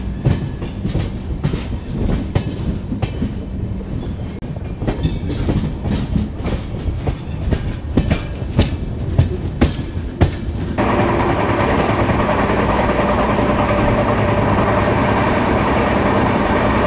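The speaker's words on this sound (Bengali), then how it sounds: "ভুবনেশ্বর থেকে ছাড়ার পরই ট্রেন 130 কিলোমিটার/আওয়ার স্পিড মেনটেন করছে।" The Dhauli Superfast Express runs at about 130 km/h after leaving Bhubaneswar, a continuous loud roar heard from inside with rapid rhythmic wheel clatter that gives way to a steadier rushing rumble.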